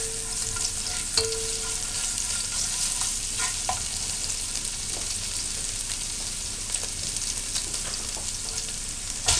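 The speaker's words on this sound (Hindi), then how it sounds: "1 टेबलस्पून बराबर जिंजर गार्लिक पेस्ट डाल दें और इसको फ्राई करें हल्का सा।" Ginger garlic paste frying in a pan for chicken spaghetti, a continuous close crackling sizzle with occasional scrapes and taps of stirring.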